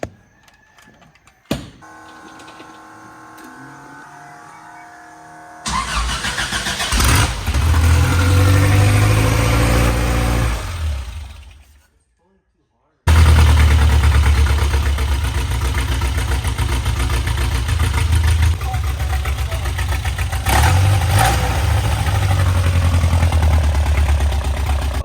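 A Toyota 2R engine in a 1981 pickup with a side-draft Weber carburetor cranks and catches, then settles into a loud, steady idle with a rough, pulsing rumble after a brief pause.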